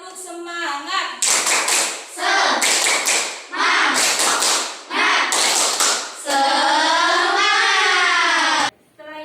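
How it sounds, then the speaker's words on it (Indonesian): A school class of seventh graders claps a rhythmic 'tepuk semangat' spirit routine, loud bursts of unison hand claps in patterned groups separated by short pauses, ending in a longer sustained stretch of clapping mixed with voices. "kita tepuk semangat dulu. Tepuk semangat."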